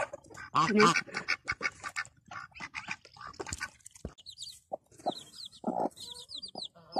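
Several chickens cluck and squawk close by in a lively, irregular stream, mixed with other farmyard calls, while a person talks loosely over them.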